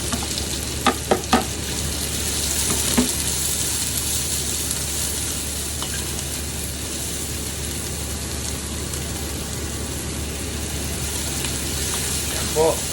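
Garlic and onions frying in very hot, smoking oil, a dense continuous sizzle with a few sharp clinks of stirring early on and near the end; no talk is heard.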